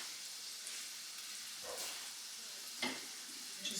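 A tablespoon of butter sizzles and hisses steadily in a pan, a continuous close frying sound with a couple of brief louder crackles and no talking.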